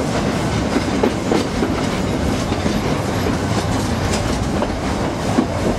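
A Nilgiri Mountain Railway train in India rumbles along continuously with a steady clickety-clack of wheels on rails, loud and close, with no voices.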